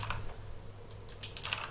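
Keys tapped on a computer keyboard while typing a Linux terminal command, a run of quiet, irregular clicks that grow slightly sharper and denser toward the end, close up with no voices.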